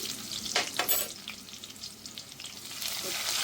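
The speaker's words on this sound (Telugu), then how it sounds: "వెల్లుల్లిపాయలు ఇలా ఎర్రగేగిన తర్వాత మిర్చి వేసుకొని" Garlic and green chillies fry in hot oil for a tempering for gongura dal, a close, steady crackling sizzle with scraping stirs and bursts of sharper spattering, no voices.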